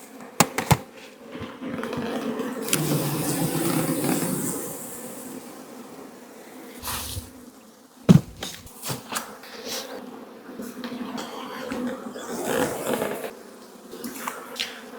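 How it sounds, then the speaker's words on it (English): Bees swarm and drone inside an opened beehive on a homestead, a steady close buzzing with sharp clicks and knocks of hive frames and tools scattered through. "I'm gonna stop talking so you can hear how cool the bees sound while we're in there."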